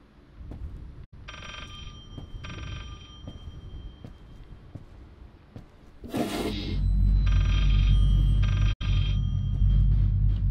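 A cell phone ringing in the horror video game Layers of Fear, pulsed electronic rings in repeated bursts, then a sudden whoosh and a loud low rumble while the ringing keeps going, alone without speech.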